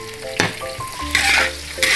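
Chili oil hits a hot wok and sizzles loudly and close, with bursts of frying hiss and stirring scrapes while ingredients including green pepper are cooked, no voices.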